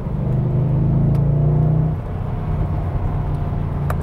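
A 2010 Mercedes-Benz E63 AMG engine blips and revs as the car downshifts into third at about 40 mph, a loud, deep, steady rumble that eases off partway through, heard from inside the car.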